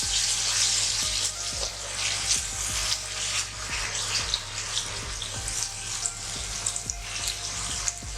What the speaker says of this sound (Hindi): पानी ऐड करते जाएंगे ताकि जले भी ना मसाला और सही से भून भी जाए।